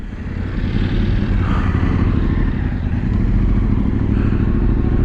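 Light off-road motorcycle pulling away on a ride in North Wales, engine loud and close with a continuous rumbling drone and a slight clatter, no talking over it.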